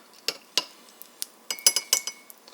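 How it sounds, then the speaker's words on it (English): A spoon clinks against a glass while iced coffee with a splash of milk is stirred, giving a handful of bright, close taps that cluster irregularly, with no voices present. "get a spoon, you stir it with a spoon."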